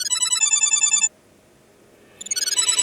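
An electronic telephone ringtone chirps in quick repeated warbling bursts, loud and close, pausing for about a second before another ring begins.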